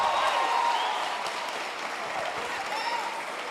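Loud applause from a congregation during a church sermon, steady dense clapping that fades slightly toward the end.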